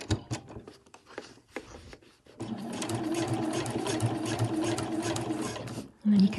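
Sewing machine fitted with a zip foot stitches piping onto a cushion cover, a steady close mechanical whirr after a few start-stop bursts, with someone talking over it.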